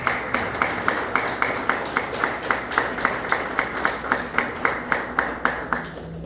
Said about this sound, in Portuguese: Umas palmas bem fortes para Jesus.